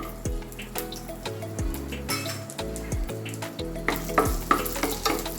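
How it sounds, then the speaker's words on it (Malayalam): Green chilies and long-sliced ginger fry in hot oil as a tempering for chana masala, a loud continuous sizzle with occasional clinks of a utensil against the pan. "രണ്ട് 3 പച്ചമുളകും ഒരു കഷ്ണം ഇഞ്ചി ഇങ്ങനെ നീളത്തിലരിഞ്ഞതും കൂടിയിട്ട് വറവിട്ട് കൊടുക്കണം"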